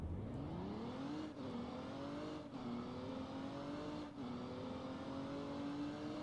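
A car in the video game ERLC accelerates from 0 to 60 with a steady engine whine that climbs in pitch, dips briefly at each of three gear shifts, then keeps rising, moderately loud and alone.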